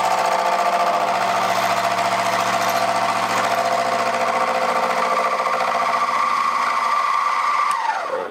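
A carbide insert face mill cutting metal at around 850–900 RPM with heavy chatter: a loud, harsh, sustained vibrating screech with strong tonal ringing, cutting off abruptly near the end as the tool pulls away.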